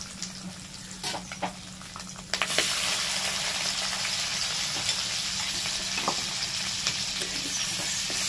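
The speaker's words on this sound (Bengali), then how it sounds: "এবার পেঁয়াজটাকে খুব ভালো করে ভেজে নিতে হবে।" Onions frying in oil with spices for a chicken curry, a steady sizzle that swells louder after a couple of seconds, with scattered pops and stirring clicks, close up and without speech.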